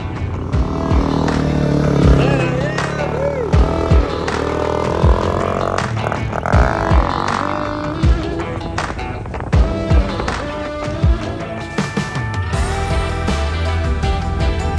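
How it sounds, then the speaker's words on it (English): Suzuki DRZ 400 dirt bike ridden on a high alpine mountain pass trail, its engine note rising and falling steadily, with clattering knocks and bumps over rough ground throughout. "We got Nicholas mobbing up on the DRZ 400."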